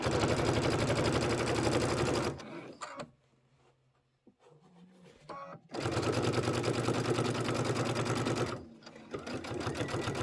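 A sewing machine runs in two loud, steady bursts of stitching along a pillow seam, with a short quiet pause in the middle filled by light handling sounds and a quick back stitch.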